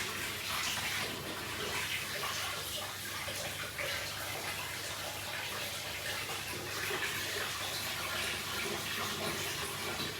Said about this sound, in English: I just need to use this tap here, because the other tap is boiling water, and wait for it to heat up